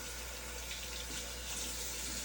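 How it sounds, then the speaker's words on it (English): Steady running tap water splashes continuously, as if hands are being rinsed beneath it, with no voices. "rinse my hands"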